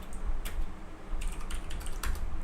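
Students tapping away on computer keyboards, with quick bursts of clicking keys over a low background hum, the typing steady but uneven and fairly close.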